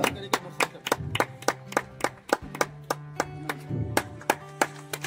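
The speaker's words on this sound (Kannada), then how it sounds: "ಜೋರ ಚಪ್ಪಾಳೆ ಬರಲಿ, ಜೋರ ಚಪ್ಪಾಳೆ ಬರಲಿ." Applause from an audience at an honouring ceremony in Bidar, with a run of sharp, evenly spaced claps or taps standing out over a steady hum and faint background voices.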